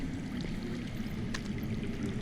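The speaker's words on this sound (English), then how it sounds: "I hear water. From underground." Underground running water in the Telltale Game of Thrones video game, a steady low rushing flow like water pouring through rock, constant and muffled throughout with no voices.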